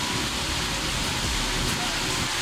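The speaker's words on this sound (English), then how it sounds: "it's about to rain." Rain falls outdoors as a steady, dense hiss that holds evenly loud throughout, with no voices and no distinct individual drops.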